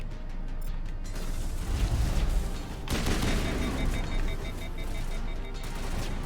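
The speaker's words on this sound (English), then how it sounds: "My weapon's overheated already." Weapon fire in the Mass Effect video game, dense rattling bursts in a continuous loud barrage that swells around the middle and keeps going to the end.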